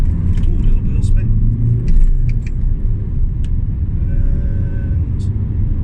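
A Vauxhall Zafira Tourer diesel pulls away from a junction with a slight wheel spin: a steady, loud low engine rumble heard from inside the car, with a voice talking over it.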